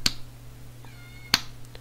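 A pet cat gives a couple of short meows or chirps, separated by about a second and fairly close by, over a steady low hum with no one talking.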